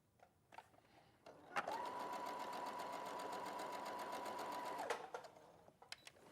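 A sewing machine stitches patchwork fabric pieces in one steady, close, rapid run of about three seconds, started and stopped by sharp clicks, with a few faint handling taps around it.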